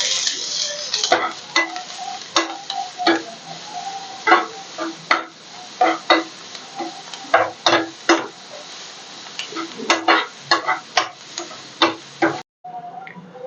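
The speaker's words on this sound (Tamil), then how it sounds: "சின்ன கேரட்டு திருவி வச்சுக்கிறேன்." A small carrot being grated by hand, a fast irregular series of sharp scraping strokes, close and fairly loud, ending with a brief pause.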